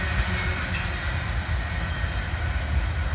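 A CSX coal freight train rolls past on the rails with a steady, loud rumble and rattle of wagons, continuous and close, with no voices over it.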